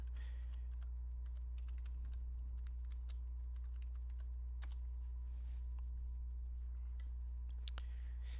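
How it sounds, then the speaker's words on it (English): Keys tapped on a keyboard to enter a Wi-Fi password while setting up RetroPie, a quiet scattered run of light clicks over a low steady hum, close and unhurried. "So I need to type my password."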